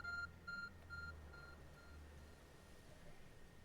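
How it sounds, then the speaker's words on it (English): A glowing object in the Pokémon Legends: Arceus video game gives off a repeated electronic beep, several short evenly spaced tones that fade out, faint over a low steady game ambience. "There's a glowing, beeping object over there."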